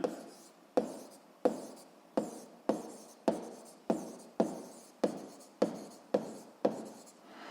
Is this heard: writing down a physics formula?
yes